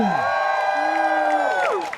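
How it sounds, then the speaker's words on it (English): An audience at a coconut tree climbing show screams and cheers, a loud sustained wall of high shouts and whoops that holds for about two seconds, then tails off. "Family, let me hear you scream!"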